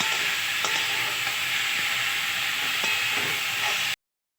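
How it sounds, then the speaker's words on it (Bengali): A steady, loud sizzle of coconut and sugar frying in a pan, with a few scraping stirs, ending in sudden silence. "মিষ্টির সাথে নারকলটা একটু ভাজা হবে"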